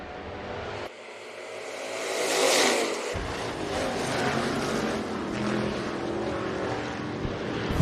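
Race cars roar into a heat race at Rapid Speedway, a dense, rising wash of engines swelling as the pack accelerates past, then a sustained loud rumble with no talk.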